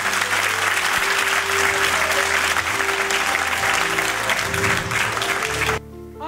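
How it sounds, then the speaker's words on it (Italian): An audience applauds at a parish theatre performance of Pinocchio, dense sustained clapping filling the room at full volume before cutting off abruptly near the end. "Facciamo un bel applauso a Don Giorgio."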